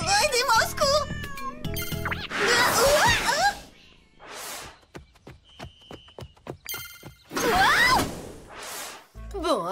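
Several cartoon cats meow in quick overlapping bursts, loud and close, with ringing telephone-like tones and electronic sounds between them.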